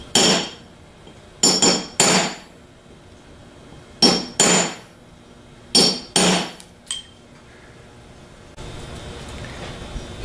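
Hammer blows on a sharpened chisel staking the drive end of a metal casting to lock a bushing, in quick clusters of two or three sharp metallic strikes spread over several seconds, close and loud, with no talk.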